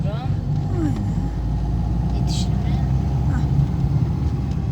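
Car interior during a driving lesson, a steady low engine drone as the car gathers speed, fairly loud and continuous, with people talking over it.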